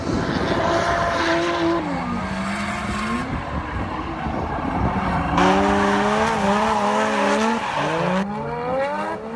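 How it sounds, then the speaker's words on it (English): Drift cars at Ebisu Circuit in Japan, Formula Drift style practice at the top of Minami, with loud, steady engine roar and wavering tire squeal that rises and falls in long sweeps through the whole stretch. "my good friend Josh Robinson and I started doing some FD Formula Drift style practice sessions at the top of Minami"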